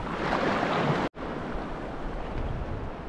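Strong headwind buffets the microphone over breaking waves on a remote Indonesian beach, a loud continuous roar with one brief dropout, no voices.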